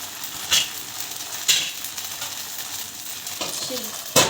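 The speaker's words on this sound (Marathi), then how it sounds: "तेल लावूया त्यामध्ये बेटर टाकून घेऊया" Paratha batter made with poha and rice cooks on an oiled griddle with a low continuous sizzle, marked by a few sharp metallic taps spaced a second or so apart, close by.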